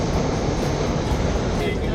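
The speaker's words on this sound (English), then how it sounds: "We are on a train in Dunedin, New Zealand." Train rumbling through a tunnel in Dunedin, New Zealand, a steady dense roar with broad low rumble and hiss filling the whole stretch, loud and close from inside the carriage.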